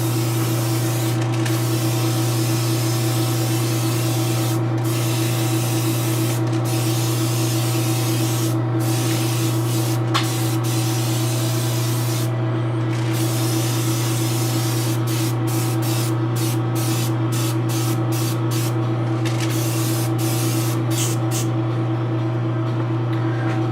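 An airbrush in a spray booth mists paint onto a Jessica Rabbit custom statue. A steady hiss sits over a constant low hum from the booth, with short pauses between passes.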